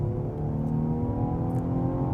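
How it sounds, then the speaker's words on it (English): A 2018 Mercedes E-Class Coupe in sports mode revs and accelerates, its engine a steady, droning hum heard from inside the cabin, fairly subdued and without talk. "when you have the car in sports mode and you put your foot down"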